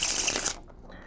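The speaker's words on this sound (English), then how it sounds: "Shuffle the cards." A deck of playing cards is riffled in one quick, crisp burst of papery flutter lasting about half a second, close and fairly clear, then fades to quiet room tone.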